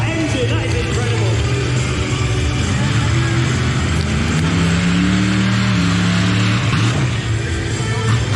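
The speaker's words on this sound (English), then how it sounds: "Sound of that engine, that is incredible." A truck engine at Truckfest revs hard, a loud, continuous low roar that rises and sustains over crowd noise, with no clear speech over it.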